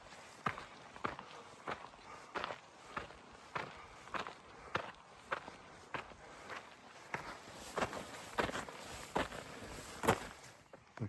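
Footsteps crunch steadily up Warm Springs Trail near Jackson Hole, a regular walking rhythm of close, fairly quiet steps on a dirt path.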